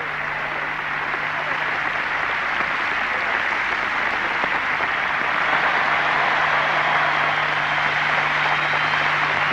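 Crowd of 16,500 in the Roland Garros stadium applauding at the 1991 French Open final, a dense, continuous, even roar of clapping heard from a distance.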